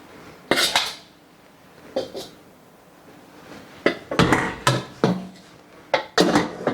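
A metal spatula scrapes and clanks against an iron wok while fried rice with fermented pork is stir-fried, coming in irregular bursts of close, sharp metallic strikes separated by quieter pauses.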